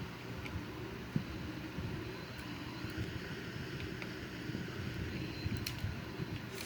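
A Sukhoi Su-30M2 jet engine throttled down for an instrument landing in a flight simulator game makes a steady, even roar and rumble with no talking.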